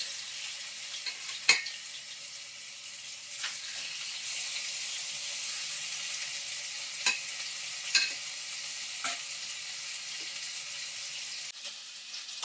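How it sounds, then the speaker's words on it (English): Lamb chops for Moroccan-style lamb chops sizzle steadily in a hot pan, a continuous bright frying hiss with a few sharper spits and pops scattered throughout, moderately loud and heard alone without talk. "Then we're going to add the lamb chops to the pan."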